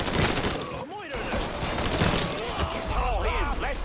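Gunfire in Mafia III Definitive Edition: a rapid burst of shots cracks out amid loud combat noise, with voices and shouting heard over the fighting.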